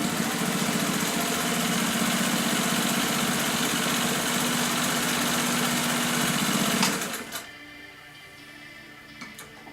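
A Singer 99K sewing machine stitches through material in one long, even run that sounds quiet and steady up close, then stops abruptly, leaving a few faint clicks.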